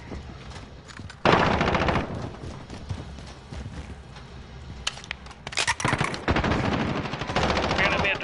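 Bursts of automatic gunfire from the ISO submachine gun in the video game Call of Duty Modern Warfare, rapid loud volleys separated by short gaps and quieter game sounds.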